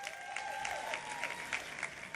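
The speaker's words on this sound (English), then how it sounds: "A round of applause to all the winners" Faint, distant applause from an audience at a national sports awards ceremony, scattered claps over a steady hum with a tonal whine running underneath.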